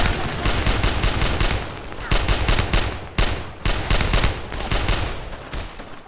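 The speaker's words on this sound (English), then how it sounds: "Suppressive fire! Fire!" Sustained suppressive gunfire in the WWII shooter Brothers In Arms: Road to Hill 30, with dense overlapping rifle and machine-gun bursts rattling continuously for several seconds, loud and close, with brief gaps between volleys.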